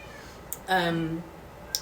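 A cat meows once indoors, a drawn-out, fairly close cry with a soft click before and after, and no talking over it.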